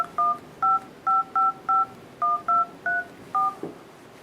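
Touch-tone dial pad beeps on a Google Galaxy Nexus phone ring out as about a dozen short, clear tones in an uneven sequence, followed by a soft tap.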